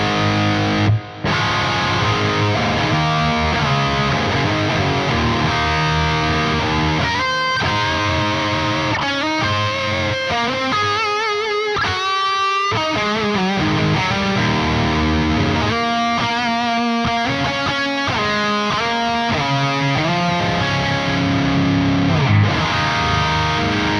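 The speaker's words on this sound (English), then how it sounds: "that was just turning the reverb and delay on the stock sound" An electric guitar played through a Soldano SLO-100 amp simulation plugin with reverb and delay, heavily distorted chords and riffs ringing with effect tails over about twenty seconds, loud and alone.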